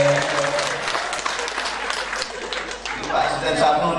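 An audience at an Islamic religious lecture breaks into lively applause that carries on for several seconds, with scattered chuckles and a speaker's voice mixed in.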